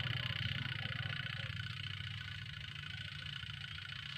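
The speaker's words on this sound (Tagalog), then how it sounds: "kung iikot yung motor natin" A small electric motor wired to a six-wire timer spins during a bench test, producing a faint, steady low hum with a slight buzzing vibration and no talking.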